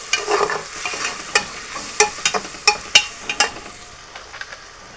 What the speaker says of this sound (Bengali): একটু হলুদ দিয়ে দিচ্ছি হালকা করে এখন এগুলো কষিয়ে নেবো